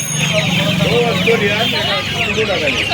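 Hens cluck in a dense, overlapping chorus at the Uluberia hen market near Kolkata, with repeated short calls close by and someone speaking over the busy flock.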